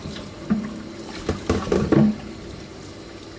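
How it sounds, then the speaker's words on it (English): Tap water splashes over a smooth toadfish, a pufferfish being rinsed at a sink, in a few short bursts of running and splashing close by, with no talking. "give that a good rinse"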